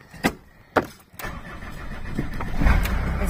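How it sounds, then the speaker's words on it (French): A Peugeot J5 / Citroën C25 van with a starting problem cranks over in a few sharp bursts, then its engine catches and settles into a rising, rumbling idle, heard up close. "Voilà, le moteur tourne"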